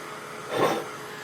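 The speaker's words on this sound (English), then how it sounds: "I'm just going to grab a little heating tool to dry this." A small handheld heat tool blows briefly over chalk paste on a handmade card, a soft hiss that swells for about half a second and fades.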